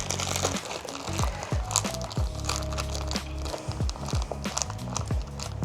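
A packet of wipes crinkles and crunches as it is pushed into a tightly packed small slouchy denim shoulder bag, with close plastic rustling and scraping running throughout over a steady tonal background.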